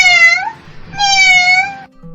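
Two clear, loud meows from a cat close by, the first short and the second longer and drawn out, with no talking.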